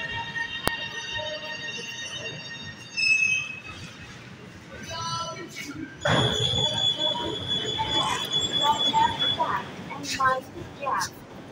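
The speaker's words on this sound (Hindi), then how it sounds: "ट्रेन आ रही है, ये चेक कर लें, ये आ गई है जी फुल ट्रेन है" A full train pulls in at a station platform in Lahore, a rumbling, rolling roar with high squealing and a tonal hum, under someone talking.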